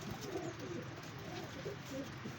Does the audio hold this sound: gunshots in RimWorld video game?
no